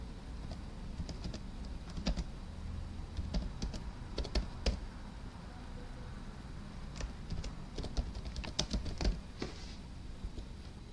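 Light, irregular clatter of a computer keyboard as code is typed, bursts of keystrokes separated by short pauses, close and moderately quiet over a steady low hum.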